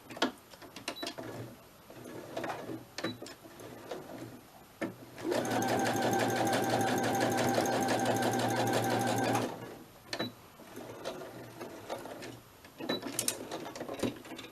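A sewing machine stitches down the soft spine of a handmade journal in one steady, close run of about four seconds, framed by quieter handling sounds and small clicks before and after.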